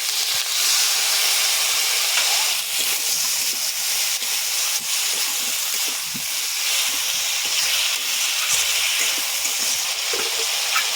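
Spiced water poured into a hot pan of rohu fish curry with drumsticks and potatoes, setting off a loud, steady hiss and sizzle of steam that lasts throughout, close and without talk.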